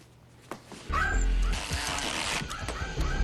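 A dog barks and yips loudly and close by in a rapid, agitated burst that continues to the end.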